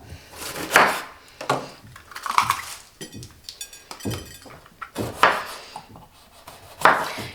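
Knife strokes through bell pepper on a wooden cutting board, a few separate crisp chops and clacks spaced unevenly, close and fairly loud, with no talking.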